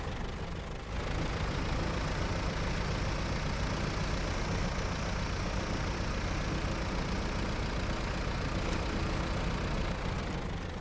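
Steady idling rumble of a New Holland tractor engine in the SnowRunner driving game, starting abruptly after a brief quiet lead-in and holding loud and even throughout with no talk.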